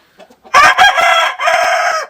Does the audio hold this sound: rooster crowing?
yes